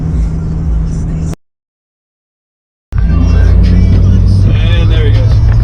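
A 2003 Subaru WRX STI pulls away, its engine a loud, steady drone after a brief dropout in the sound.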